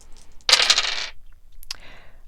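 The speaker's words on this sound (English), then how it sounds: "We're going to be rolling with the black dice." Black dice are rolled for a tarot reading, clattering in a sharp burst across a surface, followed after a short pause by a second, fainter rattle as they settle.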